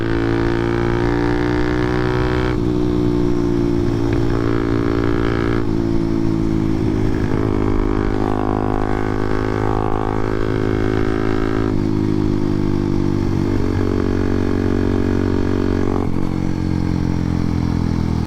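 A Honda Monkey motorcycle with a 181cc engine being ridden, its exhaust buzzing loudly and continuously as the revs rise and fall through repeated gear changes, close to the microphone and with no talk.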